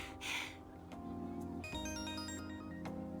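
A phone ringtone in the Persona 5 Royal video game, a soft electronic melody of repeated tones playing quietly after a brief noisy burst, with no talk over it.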